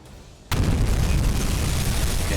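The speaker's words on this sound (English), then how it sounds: "Got the first torpedo hit." In the submarine game UBOAT, a torpedo strikes a ship: after a quiet moment a sudden loud blast erupts and rolls into a sustained, heavy roar that holds to the end.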